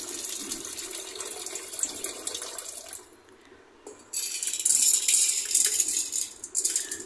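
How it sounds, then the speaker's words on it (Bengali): Split peas (matar dal) are washed in water, probably in a kitchen bowl or sink. Splashing water and grainy rattling run close by, pause briefly, then return louder and brighter. "আমি ডালটা ধুয়ে ভালো করে প্রেসার কুকারে বসিয়ে দেব সিটি আসার জন্য"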